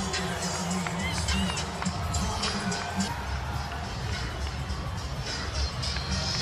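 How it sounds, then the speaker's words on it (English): Stadium crowd roars and cheers in a continuous, dense wash of noise as Lionel Messi and Inter Miami take the pitch, with a commentator's voice faintly underneath. "the crowd just erupted for this man right here"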